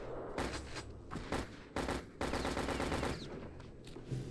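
Rapid automatic gunfire from a machine gun in Return to Castle Wolfenstein, several loud sustained bursts with short pauses between them, close and dominant, no talking over it.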